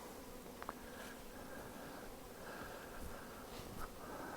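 Honey bees buzz around their hives in an apiary planted with cover crops, a faint, steady hum with a few brief louder passes close by.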